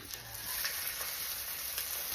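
An egg fries in a hot pan, a steady broadband sizzle with small crackles and pops holding at an even level throughout, close up with no talking.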